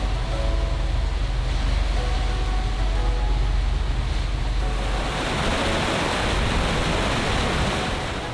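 Broadband ocean waves and surf wash continuously around a sailboat on an offshore passage, with steady wind noise across the microphone; loud and unbroken throughout, swelling slightly in the second half, with no voices.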